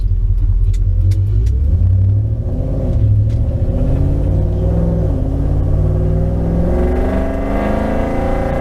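A Coyote V8 engine swapped into a Ford Ranger pickup rumbles steadily up close, its exhaust droning deep and smooth, with pitch rising gradually as the truck accelerates.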